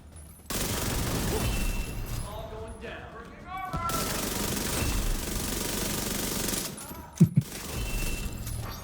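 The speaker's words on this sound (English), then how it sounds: "Just lasering with SMGs." Sustained SMG fire in a video game, long loud automatic bursts with brief pauses and a couple of sharp impacts near the end, while a person talks over it.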